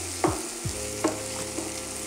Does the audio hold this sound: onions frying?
yes